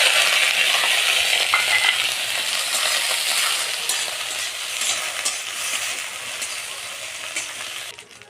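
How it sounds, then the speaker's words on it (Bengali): Dried fish fries in hot oil in a wok, giving a loud, steady sizzle with scraping stirring clatter throughout, fading slightly toward the end. "তেল গরম হয়ে গেছে, এবার শুটকিটা একটু ভেজে নেব।"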